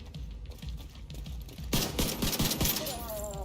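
Rapid automatic gunfire from The Division 2 video game, dense bursts of loud shots erupting midway after quieter game ambience, continuing as a close, sustained barrage.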